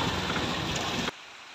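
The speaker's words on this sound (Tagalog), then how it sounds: "Ayaw pa rin tumigil ng ulan" Steady, heavy rain hisses close by for about a second before cutting off abruptly into near silence.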